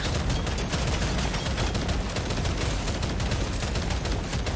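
Dense, continuous rapid fire from the Warthog shotgun, set up as an automatic weapon in Deep Rock Galactic: Survivor, rattles without pause, loud and constant, with no breaks between shots.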